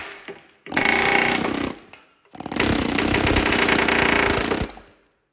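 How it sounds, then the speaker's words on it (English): A loud pneumatic air hammer knocks out hangers while tearing down a Duramax engine, rattling in two rapid-fire bursts, the second longer, close up with a harsh metallic chatter. "so then take our air hammer again"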